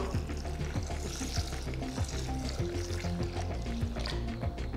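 Steady running water splashes and swirls in a container, with faint clinking as soaked lentils are rinsed and stirred, continuous and close.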